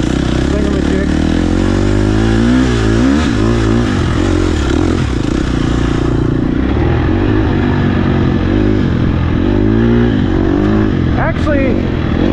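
A 2024 Husqvarna TE 300 Pro motorcycle engine rumbles loud and close while riding slowly, its pitch wavering gently with the throttle, with a voice faintly under the engine.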